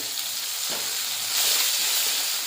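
Chopped tomato and asafoetida frying in a pan, a close continuous hiss of sizzling oil with a soft stirring scrape, swelling slightly louder midway.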